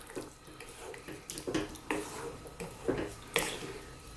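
Cold water runs from a kitchen tap while beef curry is being made, coming as a faint, uneven splash with several brief louder gushes and clatters.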